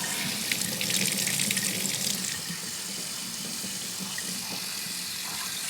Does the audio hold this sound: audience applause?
no